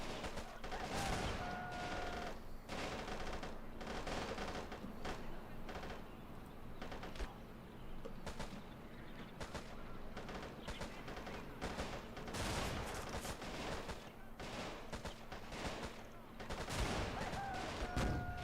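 Panzer 1 tank cannon and machine-gun fire in a video game tank battle, a dense, continuous barrage of overlapping shots and blasts lasting throughout, with game effects layered over a rumbling engine bed.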